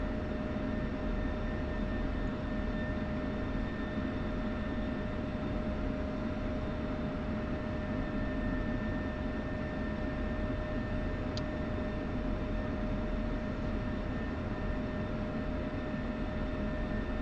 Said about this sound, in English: Some 16s and a couple more Raptors taxiing to the runway.